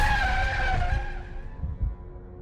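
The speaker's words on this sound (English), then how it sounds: "slammed my foot on the brake" A car brakes hard on a dark, lonely road, tires squealing in a long screeching skid that drops in pitch and fades as it slides to a stop, loud and alone.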